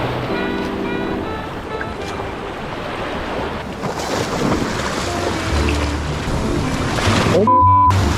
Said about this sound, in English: Yeah, the waves here are no joke either.